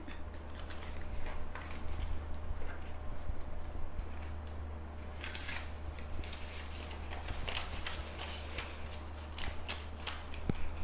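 Euro banknotes are handled and slipped into paper budget envelopes, giving soft close rustles and papery flicks over a low steady hum, with no talking.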